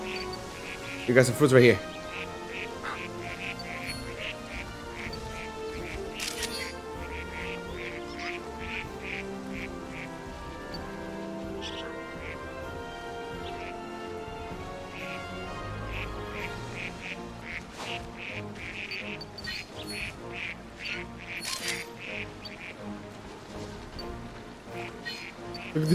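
Ducks quack repeatedly in New Pokémon Snap, a string of nasal calls with a louder burst early on, mixed with game sounds while someone talks over them.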